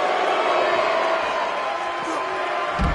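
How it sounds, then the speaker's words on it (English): A wrestling arena crowd at a live event keeps up a loud, continuous roar of cheering and shouting, a dense wash of voices with a few thuds near the end, while a commentator talks over it. "I don't remember the last time I heard a more passionate crowd than the one we have here tonight."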